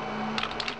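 Computer keyboard keys pressed while entering fastboot erase commands for an HTC Touch Pro2 phone, a short run of close clicks including the Enter key over a steady hum.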